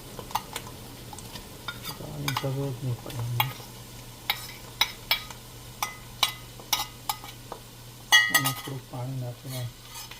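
A ginger, garlic and chili paste sizzles softly in a pan while a metal spoon scrapes and clinks against it in repeated sharp strokes, with a voice speaking briefly over the stirring.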